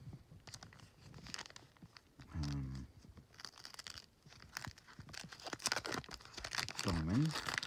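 Foil wrappers of Bowman baseball trading card packs crinkle and tear open close up, with bursts of crackling, rustling and ripping mixed with handling noise while someone talks intermittently.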